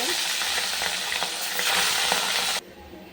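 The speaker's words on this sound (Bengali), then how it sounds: "মাছ ভাজা হয়ে গেছে" Pieces of catla fish fry in hot oil, a dense, loud, continuous sizzle with faint crackles, close up, cutting off abruptly near the end.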